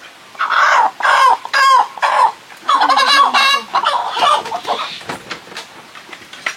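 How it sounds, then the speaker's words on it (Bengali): Home-raised desi chickens cluck loudly and close by in a run of repeated squawking bursts, tapering into fainter calls toward the end. "ঘরোয়া পদ্ধতিতে পোষা দেশি মুরগি"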